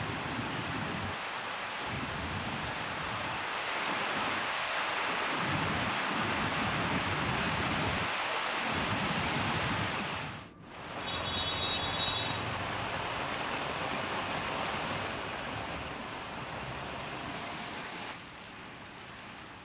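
Monsoon rain falls steadily on paddy fields in rural Ratnagiri, a dense, even hiss that holds throughout with one brief dip partway through.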